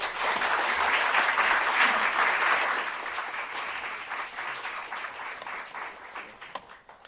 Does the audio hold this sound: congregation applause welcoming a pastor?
yes